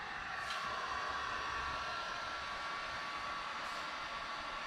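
A heat gun blows steadily on the edge of vinyl wrap on an F-150 door, giving a continuous, even airy whir with no talking.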